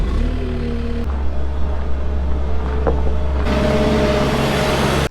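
A delivery truck bringing a load of seed idles loudly nearby, its low engine drone steady throughout with a shift in tone partway and a clunk near the start, no voices.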